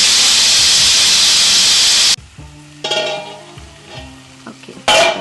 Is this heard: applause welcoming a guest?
no